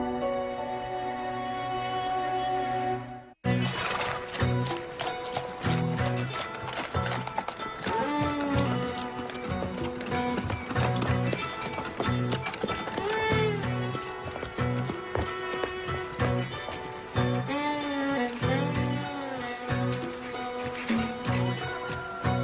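A horse's hooves clip-clop in a steady, continuous trot close by, with an occasional whinny and music playing beneath the rhythmic beats throughout.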